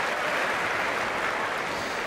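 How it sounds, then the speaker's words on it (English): Extended applause from the Wimbledon crowd during a 2008 fourth-round tennis match, a steady, dense wash of clapping heard at a distance, sustained and even throughout with no voices. "Extended applause"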